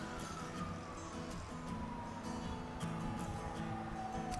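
A siren wails steadily at a distance beneath a low rumble of traffic and street noise.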